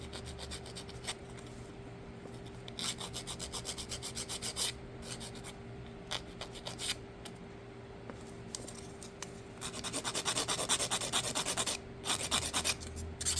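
Close-up rasping of a nail file shaping fingernails during a butterfly nail art session, steady back-and-forth strokes in short bursts, growing louder and denser near the end, with no talking.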